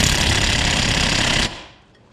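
An impact wrench hammers hard on a Toyota Camry strut bolt in a loud, dense rattling burst lasting about a second and a half, then cuts off abruptly into quiet.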